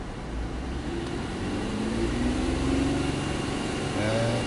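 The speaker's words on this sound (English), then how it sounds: "rev it up a little bit." A 2005 Cadillac CTS engine with a cylinder misfire running and being revved slightly, a steady close rumble with a faintly choppy, uneven idle and a mild rise in pitch, no talking.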